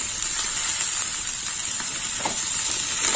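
Vegetables for a Bengali vegetarian data (drumstick) chochchori hit a hot pan with chilli powder, giving a steady, close, bright sizzle and hiss that holds evenly for a few seconds, with no talking.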